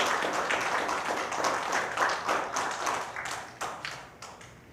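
A crowd claps, loud and dense at first, then thinning into scattered claps that fade out.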